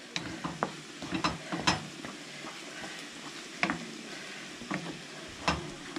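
Onions sizzling and frying in a pan, with scraping stirs and clattering clicks at irregular moments, close by.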